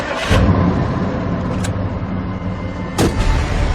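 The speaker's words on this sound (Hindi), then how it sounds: "गाड़ी स्टार्ट करने को चाबी घुमाई तो कार स्टार्ट होने की आवाज के साथ ही" A car engine starts with a turn of the key, producing a short low rumble with a few sharp bursts, set inside a dramatized ghost story.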